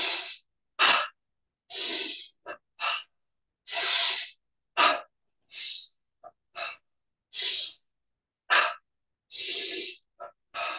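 A series of sharp, airy breaths during a meditation exercise, about a dozen forceful bursts with silence between them, close and loud, with no talking.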